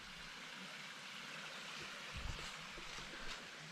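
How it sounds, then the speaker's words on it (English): A Scottish burn runs steadily near a small waterfall, a soft continuous wash of flowing water, quiet and even throughout with a couple of faint low thumps. "There's loads of areas that you just hear the burn running like that."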